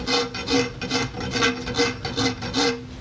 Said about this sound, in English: I'm going to start with the fine edge of the farrier's rasp and just kind of gently and consistently at a 45 degree angle back of the bow